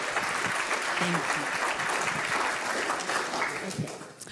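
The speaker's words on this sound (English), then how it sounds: "So can we have a massive round of applause for Lisa Noland?" A conference audience breaks into a big round of applause, with dense clapping sustained throughout and a few cheers and voices mixed in near the start and end.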